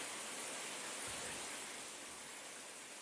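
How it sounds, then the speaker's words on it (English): A home shower runs steadily, giving a close, even hiss of falling water that holds constant throughout with no voices. "Let me actually turn on the shower so you guys hear something."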